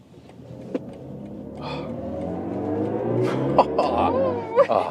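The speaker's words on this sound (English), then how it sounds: "Like accelerating out of the corner, you feel still have the rear wheel bias for that one." A BMW i5 M60 Touring electric estate accelerates out of a corner: a steady hum of road and tyre noise builds gradually, with a rising electric motor whine and a few brief clicks toward the end.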